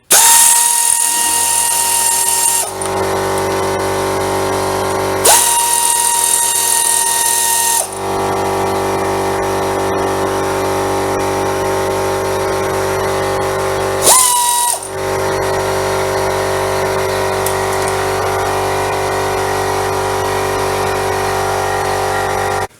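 5mm bolts being removed from a body panel on a 2019 CB500X motorcycle with a power tool: a steady, loud whirring whine that runs in long stretches, broken by a few brief pauses and restarts.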